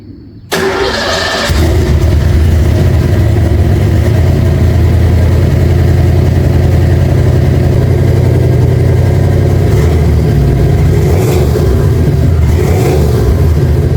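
A Fox body car fitted with a new exhaust starts up, its engine catching after a brief crank and settling into a loud, steady, rumbling idle with a couple of light revs near the end, heard up close with no talking.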